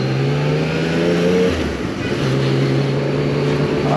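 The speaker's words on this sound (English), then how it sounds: "who keeps revving constantly to let us know he's got a Harley" Harley-Davidson motorcycle engine revving on a village road ride, a loud, steady engine drone that climbs in pitch, dips briefly, then settles back into a sustained hum at close range.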